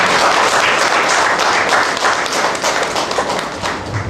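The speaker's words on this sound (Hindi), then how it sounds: "तो एक बार फिर से उनके लिए बहुत जोरदार ताली से स्वागत करेंगे" A large audience at a talk on effective communication breaks into loud, sustained applause, a dense continuous clatter of many hands that stays steady throughout with no speech over it.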